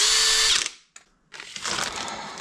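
A high-torque power drill whirs loudly at speed, winds down and stops, gives a brief blip, then spins up again with a steady, close whine.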